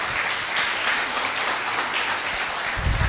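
A church congregation at a Hindi Bible study claps for the Lord, producing steady, dense applause that fills the room for about three seconds and swells slightly at the end.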